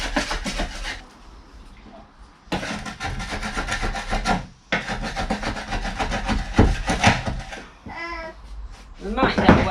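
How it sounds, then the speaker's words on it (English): A chisel scrapes old glue off a wooden floor during a major restoration, rough rasping strokes in long bursts with short gaps, close and fairly loud. "try and get rid of some of this glue. I'll use a chisel for it and it'll probably be quite effective."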